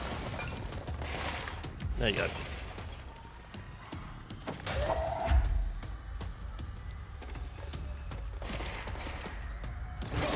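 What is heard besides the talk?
gunshots in a video game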